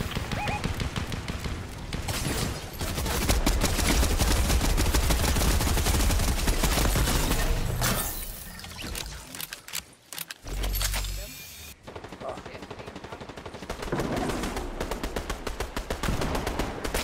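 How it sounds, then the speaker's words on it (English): Gunfire in a competitive team shooter video game, dense rapid bursts of shots packed together and loud, broken by a brief lull before firing resumes, with players talking at times. "Where was that gunfire coming from, that other one?"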